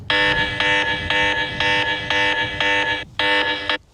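A Blackview Xplore 1 rugged phone's alarm bell gives a loud, harsh electronic buzzing pulsing in rapid short bursts, then a brief pause before one longer blast ends abruptly.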